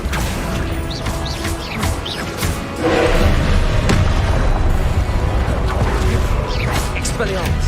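Confringo fire spell explosions in the Hogwarts Legacy video game: repeated booming blasts and crashes amid dense combat effects, loud and close, with a character's voice calling out spells over them.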